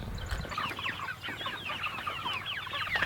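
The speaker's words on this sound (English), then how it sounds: "With these Cornish cross meat chickens, there's 30 of them we have" A flock of about 30 Cornish Cross meat chickens clucks and chatters continuously, many overlapping calls at moderate volume, close by with no talking.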